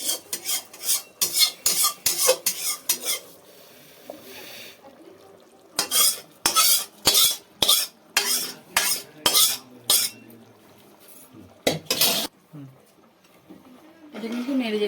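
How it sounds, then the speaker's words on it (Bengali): Fried rice is stirred in water in a cooking pot for a Bengali pulao, sharp scraping strokes of a utensil against metal coming in quick repeated bursts with pauses between. "এটা কিন্তু নেড়ে যেতে হবে, না হলে শক্ত ডেলা লালা হয়ে যাবে"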